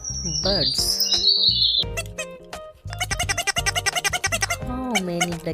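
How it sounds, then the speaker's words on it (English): Birds chirping with rapid, high tweets and a fast run of repeated chirps, close and lively, mixed with some lower calls. "Birds."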